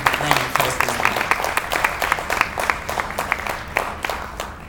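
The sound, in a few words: audience applause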